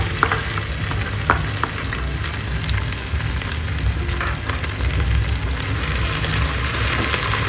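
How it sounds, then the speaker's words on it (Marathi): Two medium onions, sliced lengthwise, fry in a pan for a prawn pulao, giving a loud, steady, close sizzle throughout, broken by occasional light stirring scrapes and taps, with no voices. "ते आपल्याला छान मऊ कलर गुलाबी येईपर्यंत परतायचा आहे कांदा"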